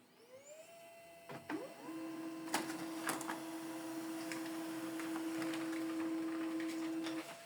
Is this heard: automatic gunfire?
no